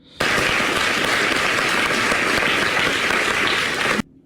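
Audience applause, a dense, even burst of many hands clapping that starts abruptly and cuts off after about four seconds, loud and close with no voices over it.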